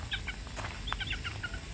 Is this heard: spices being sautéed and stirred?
no